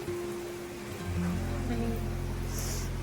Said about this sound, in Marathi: अचानक पाऊस आला. पावसाचं वातावरण आहे तर पाऊस येणारच आहे.